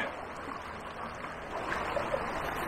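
Fast water on a small river in winter rushes steadily past a fishing swim, a continuous broadband wash of flowing current with no voices over it.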